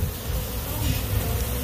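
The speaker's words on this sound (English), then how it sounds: "there's enough bees here" Honeybees swarm densely around an open hive during brood inspection, a loud continuous buzzing drone close by with no talk.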